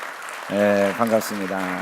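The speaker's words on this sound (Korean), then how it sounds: "우리 큰 박수 한번 쳐주세요." Applause from a church congregation during a Sunday worship service, welcoming a family celebrating their father's 80th birthday, steady under a voice speaking over it.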